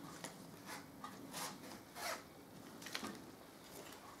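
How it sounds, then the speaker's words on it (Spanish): An invisible zipper on a soft, smooth cushion cover being run open and shut, giving several quiet, quick rasping strokes in a row with no talk over them. "También con su cremallera invisible"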